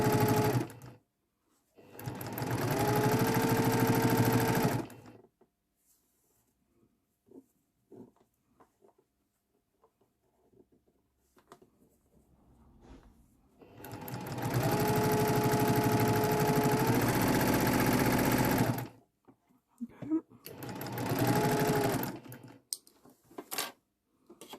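Domestic sewing machine stitching fabric for a quilted paths and gardens project, running in three separate bursts of steady whirring a few seconds each, with quiet pauses and faint handling noises between runs.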